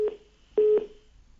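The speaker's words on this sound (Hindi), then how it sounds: "चलिए, फोन लाइन कट गई है," Telephone line tone after a radio call-in caller's line drops: a short beep, a pause, then a longer steady beep, clean and alone.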